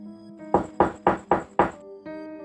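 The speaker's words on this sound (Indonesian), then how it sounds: "Terdengar suara pintu diketuk." Five firm knocks on a wooden door ring out in a steady, evenly spaced rhythm, loud and close, set against a sustained low tonal drone in a tense scene.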